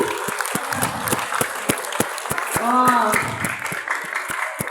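Parents applaud at a school SPTA gathering with a dense burst of clapping, while a voice speaks over it and stands out loudly in the middle.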